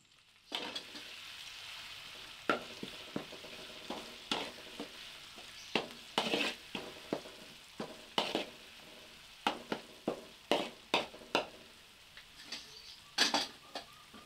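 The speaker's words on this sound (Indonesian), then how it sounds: "Kita akan menggorengnya sampai matang." Chopped smoked pork frying in cooking oil over low to medium heat, a steady sizzle broken by sharp clicks and scrapes of stirring at an irregular rhythm, close and moderately loud with no talk.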